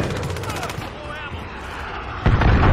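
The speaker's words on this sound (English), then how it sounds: "Allied cruise missile away." An allied cruise missile strike in the video game Modern Warfare lands as a sudden, heavy, rumbling blast after a few seconds of clattering battlefield noise and faint voice.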